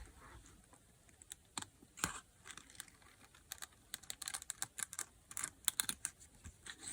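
Scissors cut through card for a snow globe shaker card with quiet, irregular snips and crisp clicks, some close together and some spaced apart, heard close up with no voices.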